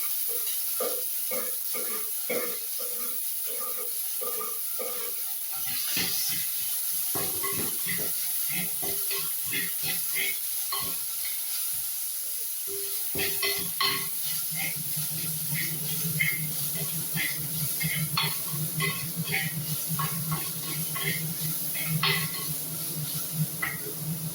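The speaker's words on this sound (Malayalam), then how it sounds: "ഒരു പച്ചമുളക് ഒരു കഷ്ണം ഇഞ്ചി അരിഞ്ഞത് ഒരു ചെറിയ സവാള അരിഞ്ഞത് ഇത്രയിട്ട് വഴറ്റുക" Fenugreek, green chili, ginger and chopped onion sauté in a pan, with irregular scraping and clinks of a spoon over a soft hiss that thickens into a steady sizzle in the second half.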